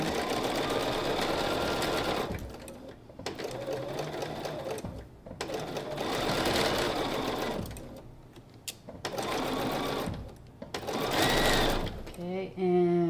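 A sewing machine stitches pinned quilt block pieces at a quarter-inch seam, running in several sustained bursts of whirring with brief pauses between them, close and fairly loud.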